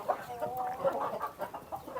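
Chickens of mixed breeds and colours, black and ash-grey, cluck softly nearby in short, irregular bursts, with faint background murmur, on a poultry farm in The Gambia.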